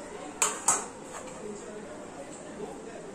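A metal lid set onto a cooking pan while jaggery sheera cooks, giving two quick, bright clanks close by, followed by a quiet kitchen hush.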